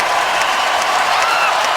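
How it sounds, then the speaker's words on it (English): A hockey crowd at SAP Center in San Jose stands, applauding and cheering in a loud, dense wash that fills the arena without a break for the whole short stretch. "This crowd on its feet, and they have witnessed something very special here at SAP Center at San Jose"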